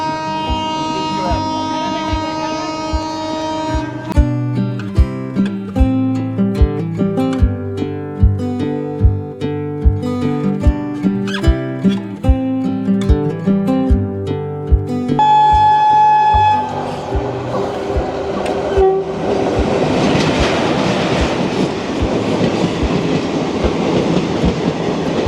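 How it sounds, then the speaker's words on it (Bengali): A train approaches on the line with loud rhythmic clatter and long sustained tonal horn blasts, the rumble building and continuing as the cars pass close by, with voices partly audible under it. "ট্রেন আসছে"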